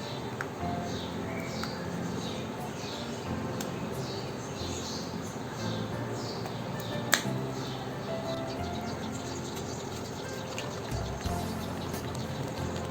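Acrylic pouring paint mixed with pouring medium shaken in a container: a steady, continuous sloshing and rattling of liquid, close and even, running throughout with one brief knock.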